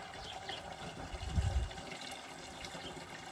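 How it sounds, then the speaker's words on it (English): Water from a hose runs into a chicken waterer, a steady rushing gush with a brief louder splash in the middle, close by and alone without talk. "the hose kind of stirs it up when the water runs in"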